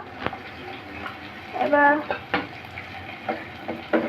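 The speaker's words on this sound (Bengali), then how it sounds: "এবার একটু লেড়ে দিচ্ছে।" Pointed gourd mince with cumin paste sizzles in a pan as a spoon stirs it, with soft scraping strokes and brief louder bursts of frying; a voice speaks lightly in the background.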